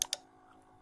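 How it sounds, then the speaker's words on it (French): A single computer keyboard key, the Enter key, is pressed: two quick close clicks at the very start, a down-stroke and release, followed by quiet room tone. "quand je tape sur Entrée"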